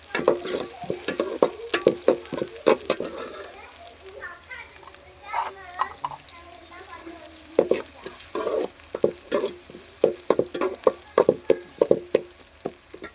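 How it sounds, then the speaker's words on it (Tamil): Onions sauté in a pan with a soft sizzle, while quick clattering stir strokes repeat through most of the stretch and people talk over it, including a voice. "இப்போ வந்து வெங்காயம் நல்லா வதங்கட்டும்."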